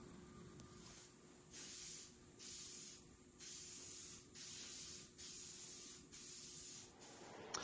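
An aerosol can sprays another coat of paint onto a steel framing square in several bursts of hiss, each lasting about a second with short pauses between, quiet and close.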